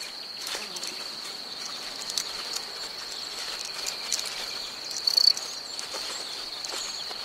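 Crickets chirp in a steady, high continuous trill, with faint scattered clicks and rustles around it.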